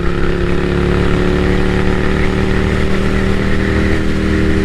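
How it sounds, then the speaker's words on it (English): An air-cooled 803 engine on a café racer motorcycle drones loudly and close, a steady throbbing rumble held at constant revs while cruising, with no voices. "These little 803s, air-cooled 803s, man, they're perfect."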